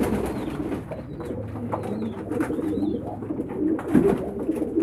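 Pigeons cooing softly outdoors while bathing in cold water in winter, amid faint splashing and ambient noise, with a few higher bird notes scattered through.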